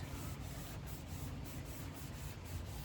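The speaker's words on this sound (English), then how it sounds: "We're going to take our 800 grit sandpaper and go on a horizontal axis" A car headlight being wet sanded with 800 grit sandpaper gives a continuous close, rough rubbing hiss with faint back-and-forth pulses, steady and alone.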